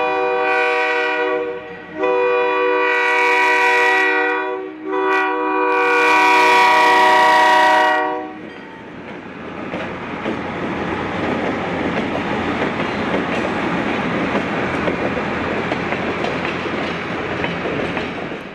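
A night passenger train on the Santa Cruz branch line, hauled by two F9H locomotives with eight cars, sounds its horn in three loud sustained blasts, followed by the steady rumble and rail clatter of the train rolling past.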